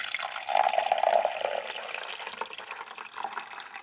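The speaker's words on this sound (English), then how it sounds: "First things first, gonna add my water." Water poured into the reservoir of a Chefman K-Pod coffee maker, a steady close splashing and gurgling stream that swells early and then settles into a lighter trickle.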